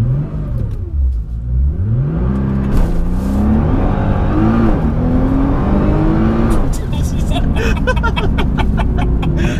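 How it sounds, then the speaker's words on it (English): A Nissan GT-R accelerates hard with a loud engine note that rises through the gears in repeated pulls. Passengers talk and react over it throughout. "just got back from riding in the GTR"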